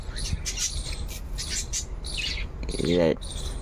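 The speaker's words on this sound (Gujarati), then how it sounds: "આપણે આગળ ધાબા ઉપર જઈએ, ત્યાં પણ તમને બતાવું કેટલા કબૂતર છે." Soft pigeon coos, chirps and wing flutters repeat over a steady outdoor hum around rooftops, with a brief voice near the end.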